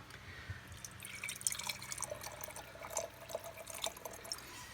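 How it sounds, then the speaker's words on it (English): Cooking liquid from slow cooked BBQ pulled pork is ladled out, giving soft dripping, splashing and trickling sounds that come close and fairly quiet, with no talk. "So we're going to take out about half of this liquid."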